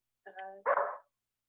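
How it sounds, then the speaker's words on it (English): A pet dog gives a short bark or two at close range, loud and brief, with a whine-like tonal lead-in, heard indoors during an online public board meeting. "sorry about my dog."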